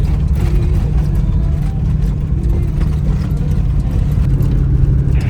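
Vehicle engine driving along a rough mountain plateau road on the way to rescue a car stuck after a breakdown; a loud, steady low rumble continues throughout with no break.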